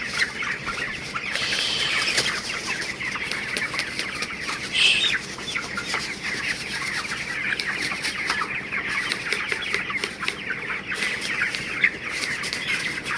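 Chickens on a poultry farm cluck and call repeatedly, close by and fairly loud, over a constant murmur of the flock, with no speech.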